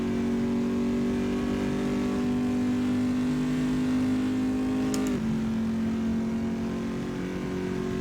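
A GTE/GT3 race car engine revs high and steady at Monza in the Assetto Corsa racing game, a loud sustained whine that drops sharply in pitch as the gear shifts, then carries on droning.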